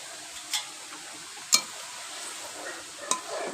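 A spoon stirs cashew, poppy seed and mustard paste into a simmering potol (pointed gourd) curry, giving a few soft scraping clicks against the pot over a faint steady hiss.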